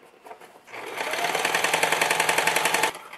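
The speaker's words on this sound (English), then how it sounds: "And I'm going to sew slowly." A sewing machine stitching an invisible zipper runs slowly and steadily for about two seconds, a close, even rapid clatter of stitches that starts and stops cleanly.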